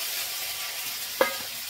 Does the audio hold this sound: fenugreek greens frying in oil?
yes